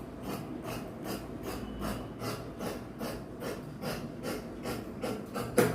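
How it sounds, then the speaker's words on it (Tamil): Tailor's scissors cutting trouser fabric in a shop, close and steady, with a rapid run of rasping snips in even rhythm and no talk. "இந்த பக்கம் ஒட்டி வெட்டிட்டேன்."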